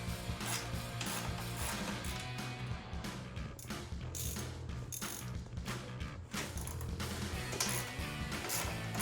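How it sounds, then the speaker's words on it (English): A 13mm ratchet loosening the strut tower brace bolts on a 2015-2023 V8 HEMI Charger, giving steady close-up clicking and mechanical ratcheting that runs continuously with small dips. "we're gonna take this 13mm ratchet and loosen these bolts up here"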